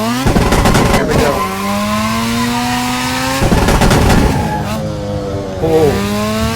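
A race car in a racing video game accelerates hard and snaps into oversteer, its loud engine note climbing through gears in rising harmonic sweeps. Two bursts of rough crackle break in during the run, and no one talks.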